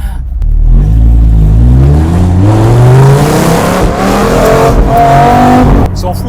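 A Dodge Viper SRT10 engine roars at full throttle, pitch climbing steadily through the revs in one long, loud, close acceleration, with a brief shift-like dip before it rises again.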